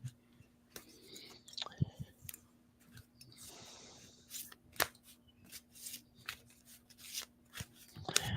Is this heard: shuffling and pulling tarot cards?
yes